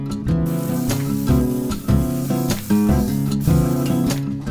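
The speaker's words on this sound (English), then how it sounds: "make sure that we got it spraying the way we want it to" A spray gun spraying contact glue hisses in a series of short, close bursts, each with a droning, tonal edge, repeating at an uneven pace.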